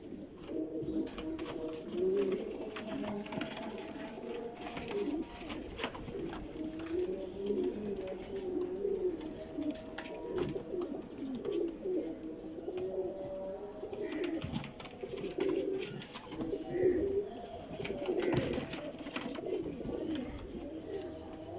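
A pair of Lal Pari pigeons cooing, soft repeated low coos in a rolling rhythm throughout, close by but quiet, with faint background noise and no talking.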